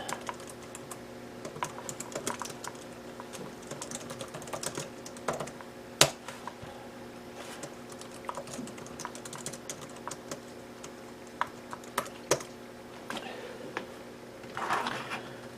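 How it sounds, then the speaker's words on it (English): Keys clatter on a 2013 laptop keyboard in short irregular bursts, with a few louder taps, fairly quiet against a faint steady background hum. "I'll just type my name in."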